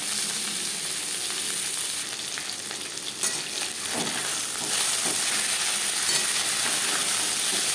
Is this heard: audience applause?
no